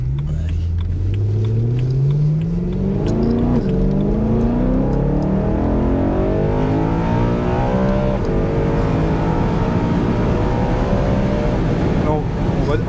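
A BMW M3 E92 with a naturally aspirated engine accelerates hard, its loud revving climbing steadily in pitch through the gears with a deep rumble underneath.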